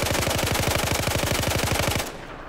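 Rapid automatic fire from a Groza-1 rifle in Battlefield 4, a steady loud burst of closely spaced shots for about two seconds, then stopping abruptly into a quieter room-tone tail.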